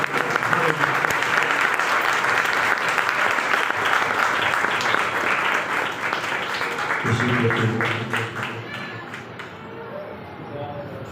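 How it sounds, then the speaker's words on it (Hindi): Congregation applauding during a Sunday church service; loud, dense clapping from many people fills most of the span, then thins out as music and voices rise toward the end. "आपको जोरदार तालियों"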